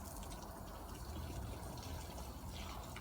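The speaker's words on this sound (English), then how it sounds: "Fill up my canister." Water from a garden hose runs into a 2-gallon sprayer canister for lawn treatment, a faint, steady filling hiss and gurgle with no pause.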